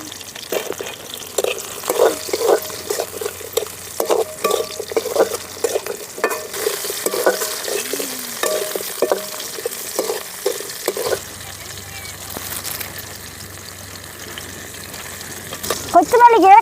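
Banana flower curry being stirred in a pan with garlic and tomato, a spoon scraping in a steady rhythm over soft frying sizzle, close up, with a brief louder clatter near the end.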